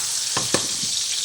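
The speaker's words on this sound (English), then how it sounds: "sausage patties frying up" Sausage patties fry in a pan with a steady close sizzle, punctuated by a few brief spatters and pops.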